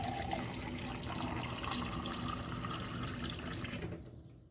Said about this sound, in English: All that's left to do now is treat yourself to a glass of clean water.